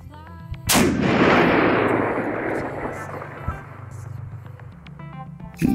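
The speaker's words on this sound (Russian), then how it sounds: "Выстрел." A single loud rifle shot cracks sharply during chronograph velocity testing, followed by a long rolling echo that fades over several seconds, with faint background sounds after.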